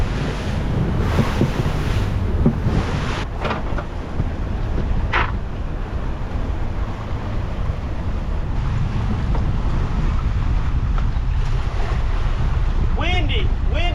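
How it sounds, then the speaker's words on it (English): A strong north wind gusts hard along a riverbank, buffeting loudly and roughly with a rumbling roar, mixed with the wash of water against the shore, close and constant throughout. "This north wind is hard to manage alone"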